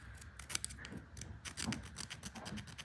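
A hand rubs across the machined texture of an Icon ratchet, giving a close, dry scratchy rasp in quick repeated strokes, fairly quiet and alone.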